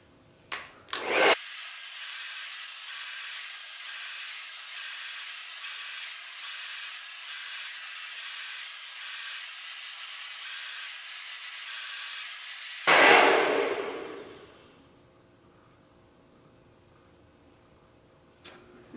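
A hair dryer blasts steadily and close during an at-home salon blowout, running as a constant airy roar for about twelve seconds before cutting off with a brief gust, followed by quiet room tone.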